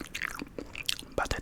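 Close, quiet chewing of noodles, with soft wet bites and mouth sounds in an irregular rhythm over a short stretch.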